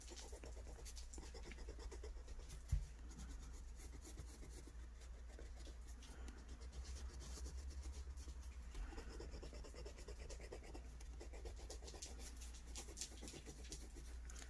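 A crayon coloring firmly on paper, a steady faint scratchy rubbing that continues throughout with one small knock early on, quiet and close.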